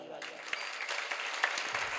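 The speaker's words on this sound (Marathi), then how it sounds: "महाराज इथं टाळी वाजवा." An audience claps during a Shiv Katha devotional religious recital at Khurgaon, producing a fairly faint, continuous patter of hands with some voices underneath.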